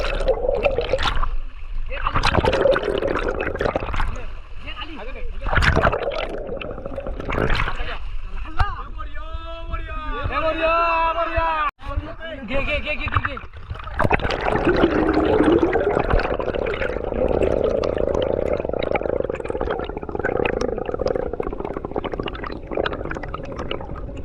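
River water splashes and churns throughout during a Ganpati idol immersion in Konkan, with people talking steadily over the watery wash.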